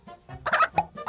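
A cartoon chicken gives a short burst of loud, close clucks lasting about a second, with no speech.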